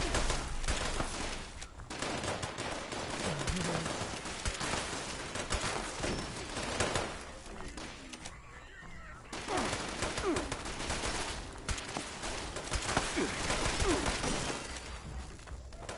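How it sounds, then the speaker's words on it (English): Gunfire in the video game Fallout 76, with sustained bursts of rapid shooting that fill most of the stretch and pause briefly in the middle, heard along with other game noise. "I hear someone else shooting."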